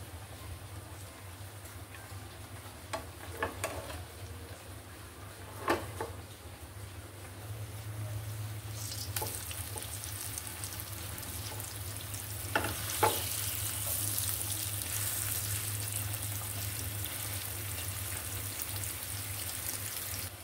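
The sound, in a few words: vegetable bhaji frying in a pan on the stove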